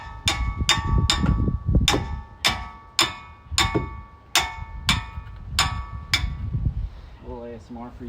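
A hammer strikes Cadillac Escalade brake parts about a dozen times in a steady rhythm, each blow a loud, ringing metallic clang, with a brief voice at the very end.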